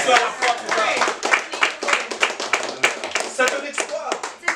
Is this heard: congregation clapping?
yes